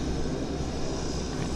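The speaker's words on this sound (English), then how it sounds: "back to terra firma, the Dreamliner" A Boeing 787 Dreamliner airliner landing at Vancouver Airport gives a steady, broad engine roar, moderately distant and continuous, with no voices.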